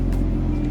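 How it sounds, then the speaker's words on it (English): A 2020 Toyota Supra GR engine holds a deep, loud, steady rumble up close in a brief rev, alone without voices. "Giving her a nice little rev."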